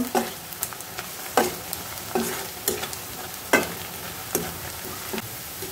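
Onions fry in a generous amount of oil in a pan while a spatula stirs them, sending sharp scraping strokes at irregular intervals over a soft, continuous sizzle.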